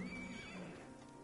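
A horse in Ghost of Tsushima gives a short, close neigh that rises and then trails off, heard alone.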